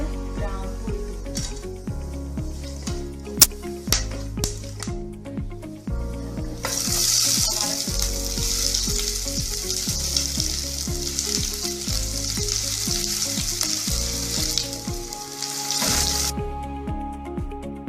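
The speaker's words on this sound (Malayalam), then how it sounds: "എണ്ണ ചൂടായിട്ടുണ്ട്. അതിലോട്ട് നമുക്ക് ഒരു 5 പീസ് കട്ട ഇട്ട് കൊടുക്കാം." Whole spices, including cloves, crackle and fizz in hot oil over a low flame for a tuna fish stew, with a steady sizzle that swells louder midway as more goes into the pan; no one speaks.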